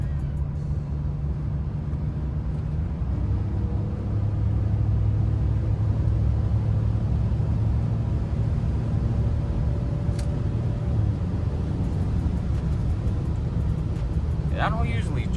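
Interior of a BMW E39 530i on the move, a steady low engine and road rumble with some wind noise running throughout, occasionally overlaid by talking.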